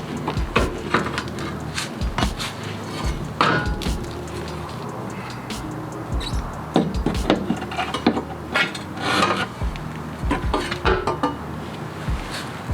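Metal sway bar parts being unhooked and pulled out of a Subaru WRX during a Whiteline sway bar kit install, giving repeated clanks, clinks and scraping knocks that sound close and busy throughout, with no talk.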